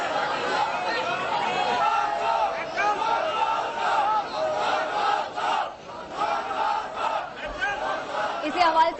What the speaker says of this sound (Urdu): خواجہ سعد رفیق کی موجودگی میں گو نواز گو کے نعرے لگ گئے